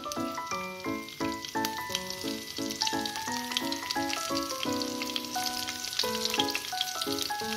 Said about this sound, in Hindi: तेल गर्म हो चुका है, उसमें कुटी ही लाल मिर्च, पिसी हुई अदरक